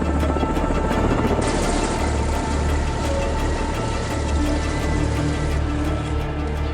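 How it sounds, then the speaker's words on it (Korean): A firefighting helicopter drops water on a spreading wildfire near a mountain, its rotor roaring loud and constant with a rushing, splashing wash layered over the steady engine drone. "소방헬기가 필사적으로 물을 뿌립니다."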